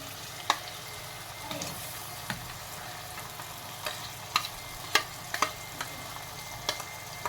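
Vegetables and paneer fry and are stirred in a pan for paneer biryani, a soft steady sizzle broken by scattered clicks and scrapes of the spoon, fairly quiet with no talk.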